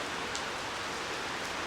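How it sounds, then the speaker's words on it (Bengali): Heavy rain falls in Rajshahi as a constant broadband wash of noise, fairly close and uniform, with a couple of faint ticks of drops standing out. "আর প্রচণ্ড পরিমাণ বৃষ্টি হচ্ছে"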